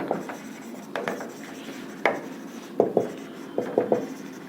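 Chalk or marker writing on a classroom board, a run of short scratchy strokes and taps in irregular bursts, close and fairly clear with faint room noise between them.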